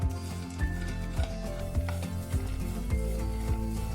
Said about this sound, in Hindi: और जो बादाम है, इन दोनों को हम थोड़ा सा भून लेंगे ताकि ये क्रंची हो जाए।